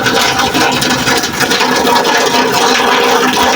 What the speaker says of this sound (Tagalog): salukuyang nagdi-drain tayo ngayon guys